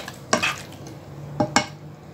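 Mutton roasting in a pan while being stirred, with three sharp scraping strokes of a spoon against the pan over a low, faint sizzle.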